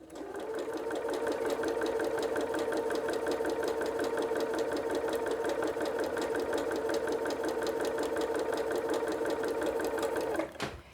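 A sewing machine chain pieces fabric quilt blocks, running steadily at a fast, even stitching rhythm for many seconds before stopping abruptly near the end.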